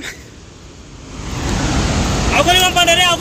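Broad rushing roar of water falling at Srisailam Dam at night swells louder over a few seconds, with a voice coming in toward the end.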